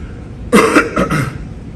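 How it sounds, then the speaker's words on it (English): A few rough coughs in quick succession, close and fairly loud, with a short pause between bursts and no talking. "I haven't stopped coughing"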